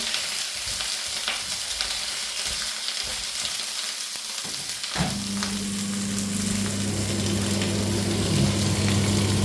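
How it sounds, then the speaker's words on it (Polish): Asparagus fries in a pan at home with a loud, constant sizzle and crackle, a low hum joining partway through. "takie smażenie to aż miło, nie?"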